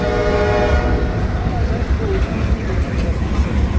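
A freight train rolls past loud and close, its horn sounding steady tones over a continuous low rumble of rail cars for the whole stretch.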